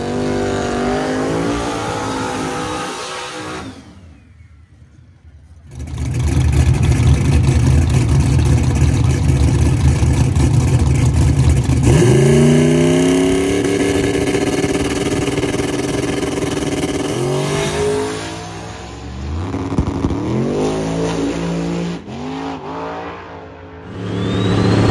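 A turbocharged race car accelerates hard down the drag strip at a racing event, a loud engine roar climbing through gears with repeated rising sweeps, a brief quieter lull early on, then further revving and shifting as it pulls away.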